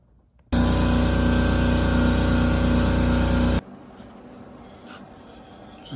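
A MIG welder tack welding a patch into the rusted door jamb of a 1985 Chevrolet Monte Carlo G-body, giving one loud, steady buzzing weld burst of about three seconds, then stopping.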